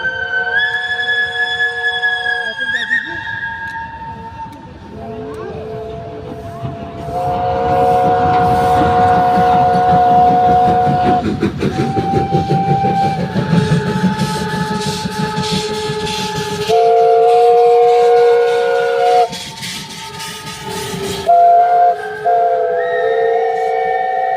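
Steam locomotives parade past in pairs at the Wolsztyn 2025 parade, a German engine alongside one from Luxembourg. Loud, sustained whistles sound over continuous rumbling, chuffing and rolling rail noise that swells as the engines go by.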